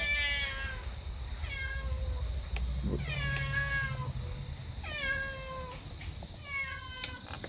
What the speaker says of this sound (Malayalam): പൂച്ചയുടെ ഒരു മാസ് എൻട്രിയാണ് ഇത്